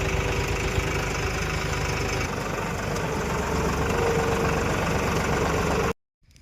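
A tractor engine idles nearby outdoors on a farm where leaf litter is being burned, a steady, dense rumble holding even throughout, then cutting off abruptly at the end.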